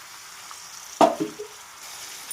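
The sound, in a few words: oil added to a hot pan for brinjal curry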